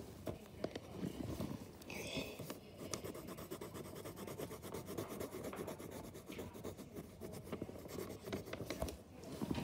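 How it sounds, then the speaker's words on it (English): Pencil or marker rubs and scratches continuously on paper while a Grinch picture is drawn, close and steady with dense rasping strokes and faint talk in the background. "But let's just keep drawing."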